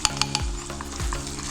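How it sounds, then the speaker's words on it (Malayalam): Onion, garlic, coconut and dried red chillies hiss and sizzle in hot oil for a curry tempering, with a few sharp clinks and scrapes of a spoon stirring against the pan. "വറവ് നമ്മൾ ഈ കറിയിലേക്ക് ഇടാൻ വേണ്ടി പോവാണ് കേട്ടോ."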